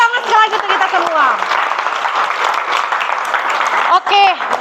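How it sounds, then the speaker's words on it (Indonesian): Classroom applause from students at the end of a lesson, steady and continuous clapping filling the clip while a voice talks over it. "Tepuk tangan sekali lagi untuk kita semua."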